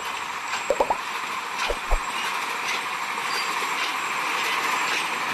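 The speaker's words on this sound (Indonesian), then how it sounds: "Oke, lokomotif melewati perlintasan di daerah Turi." Sugarcane train locomotive passing a level crossing in Turi at dusk, a steady broad rumble of rolling stock with a few sharp knocks and clanks early on, moderately near and continuous throughout.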